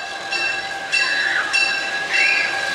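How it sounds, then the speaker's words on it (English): A train at Greenfield Village, Michigan rolls by slowly at a distance, a steady rumble with a sustained high tonal whine and faint squealing, continuous throughout. "There's a train."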